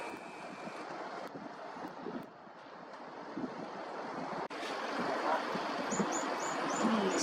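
Muddy waves churn on the exposed shore at Penarth, a broad continuous wash mixed with wind buffeting the microphone, with gull cries faintly audible toward the end.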